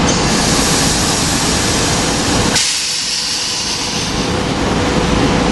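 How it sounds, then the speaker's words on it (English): A SEPTA Silverliner IV electric train, rail cars 299, pulls out of Willow Grove station with a loud, close, continuous rumble and hiss of wheels and motors that dips briefly partway through. "Leaving with rail cars 299, Silverliner 4 rail cars 299."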